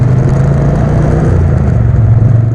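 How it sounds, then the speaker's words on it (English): Liquid-cooled 8-valve 1200cc parallel twin engine of a Triumph Bonneville Speedmaster motorcycle, running steadily and loud with a deep low throb and constant rumble, close up and alone. "The sound from the liquid-cooled 8-valved 1200cc parallel twin engine is noteworthy."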